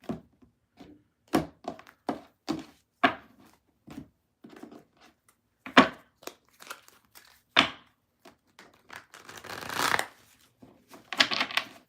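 Tarot cards are shuffled by hand in a quiet room, with a series of crisp riffles and slaps that come in uneven bursts, close and clear, and a longer rustling flurry near the end.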